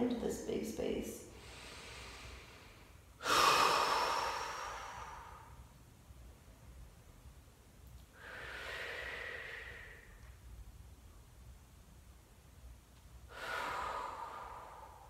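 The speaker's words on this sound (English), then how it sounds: "concentrate on taking 5 more rounds of breath" Deep, slow yoga breaths drawn and released through the throat, four long airy breaths spaced several seconds apart, close and clear in an otherwise quiet room.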